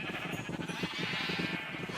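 Minecraft sheep bleat in a short, wavering run of quavering calls, close and moderately loud, with no other sounds.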